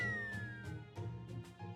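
A cat girl character in the Fate/Grand Order video game gives several short meows over a layered game music background, each call brief and fairly close.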